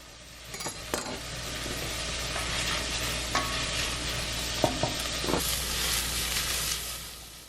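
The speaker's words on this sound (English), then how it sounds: "everything has sauteed down nicely" Mushrooms and chopped vegetables sauteing in a soup pot, a close continuous hiss with a few utensil clinks and scrapes against the pot.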